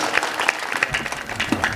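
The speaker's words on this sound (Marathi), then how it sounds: "एकदा सर्वांनी मोठ्या प्रेमाने आपल्या कलाकारांसाठी टाळ्या वाजवा." A brief burst of audience clapping for kirtan performers at a devotional gathering, steady applause with distinct individual claps audible through the crowd.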